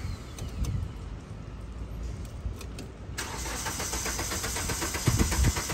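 A car engine turns over repeatedly but fails to fire, first a low rumble and then a louder, rapid whirring crank that persists to the end, close and alone.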